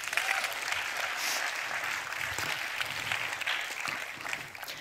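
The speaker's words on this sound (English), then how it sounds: "So please give a big round of applause to Leila." Audience applause fills a hall at a talk on consciousness exercises, a dense, steady wash of many hands clapping that holds for several seconds and tapers slightly at the end.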